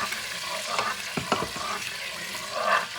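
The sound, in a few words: scraping pot while deglazing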